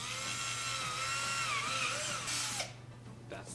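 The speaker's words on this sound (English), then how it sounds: "Try your best to always drill on a perfect 90 degree angle going down." A power drill bores a hole for pipe in a DIY automatic water change system for a fish store, running as a steady close whine with a slight pitch dip before it cuts off near the end.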